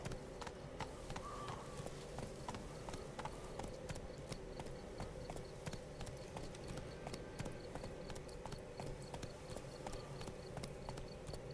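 Steady rhythmic clip-clop of galloping horse hooves in the video game The Witcher 3, running continuously over a busy background, with no talking.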